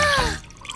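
Water tinted with food coloring poured into a container, a brief liquid splash with a falling tonal ring that fades into faint trickling.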